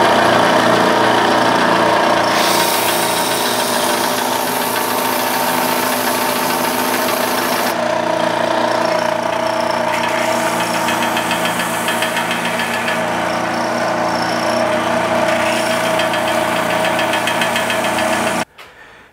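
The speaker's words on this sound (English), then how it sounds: "the belt sander does it much faster" An old Central Machinery Harbor Freight belt sander sands wood with a loud, steady motor drone that runs for about eighteen seconds and then cuts off abruptly.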